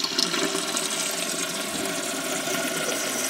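A lowboy toilet flushes with its flapper open, and water rushes steadily through the rim wash in a close, continuous wet hiss and gurgle that lasts the whole stretch, with no voices.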